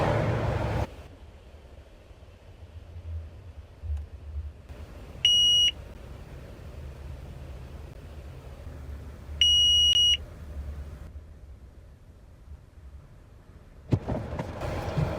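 Two short high electronic beeps from a carp fishing bite alarm, several seconds apart, over a low steady outdoor rumble; brief and clear, with nothing else standing out.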